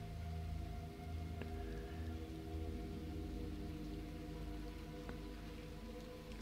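Steady rain falls in the video game Little Nightmares 2 among crooked houses, a soft continuous patter with a low droning hum beneath and occasional faint drips, with no talking.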